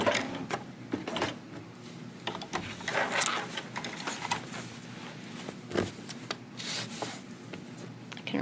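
A sewing machine back stitches at the end of a seam while a zipper bag is constructed, giving short, quiet mechanical bursts with soft rubbing of fabric and brief pauses between runs.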